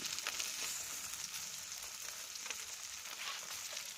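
Fish frying in hot oil in a pan makes a close, continuous crackling hiss with small pops scattered through it, and no voices are heard.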